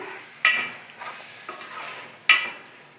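Chicken liver gravy stirred in a pan with oil risen to the surface, giving two sharp scraping clacks of a spoon against the pan over a low, steady sizzle.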